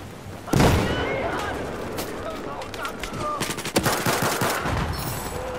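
Pistol gunfire in Battlefield 4 during a firefight, a loud first shot followed by scattered sharp reports and quicker bursts, some distant, with faint voices and game effects underneath.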